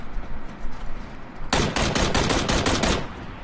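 Gunfire in a video game, aimed at an enemy, comes as a loud rapid burst of close shots lasting about a second and a half after a low rumbling start, with no talking.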